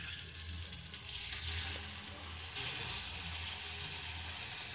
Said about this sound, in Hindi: कढ़ाई में हमने घी डाला है, घी हमारा गर्म हो गया है। इसमें हम थोड़ा सा डाल के देख लेंगे, घी गर्म हो गया है। अब इसमें हम जलेबी डालेंगे।